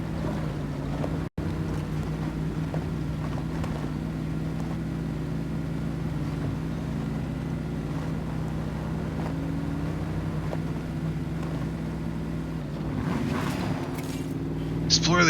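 A damaged truck engine idles and drones steadily in the MudRunner video game, a low continuous hum with a faint rising rev near the end and muffled speech underneath.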